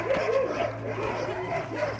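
Sled dogs at the Denali National Park kennel keep up a steady chorus of yips, whines and barks at close range, layered over a low constant hum.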